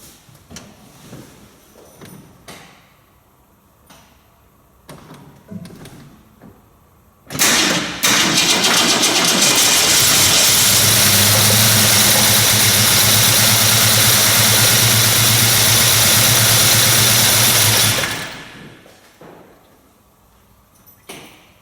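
A 1965 Ford Mustang engine cranks and catches, then idles loudly and steadily for about ten seconds before shutting off, preceded and followed by softer mechanical clunks and handling noises nearby.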